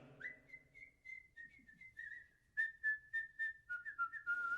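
A single person whistles the Sig Ep fraternity tune alone, a clear sustained melody that turns into a run of short, rhythmic notes, close and fairly loud with no talking.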